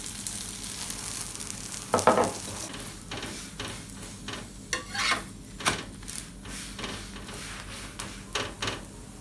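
Layered lachha paratha fries in a little oil in a pan, giving a steady soft sizzle broken by intermittent scraping and spatula stirring bursts, close by with no talking.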